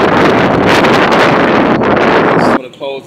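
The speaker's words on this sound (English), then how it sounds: "It's windy out here." Strong wind in downtown Dallas buffets the microphone with loud, continuous roaring gusts, easing off briefly near the end.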